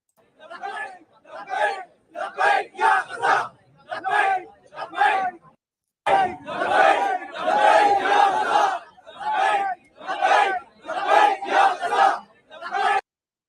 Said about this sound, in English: Huge crowd from Pakistan back in Palestine in Gaza.